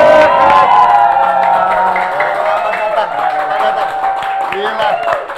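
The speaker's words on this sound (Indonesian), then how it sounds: "Langsung aja tepuk tangan." A television studio audience claps and cheers for a guest, a former football player, on an Indonesian talk show. The steady crowd noise carries on under voices and background music.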